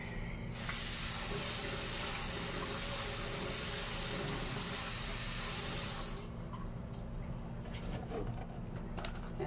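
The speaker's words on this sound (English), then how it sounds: "I'm gonna rinse this off real quick" Water runs steadily from a kitchen tap as potatoes and broccoli are rinsed, a constant close hiss that cuts off near the end, leaving faint clatters in a quieter room.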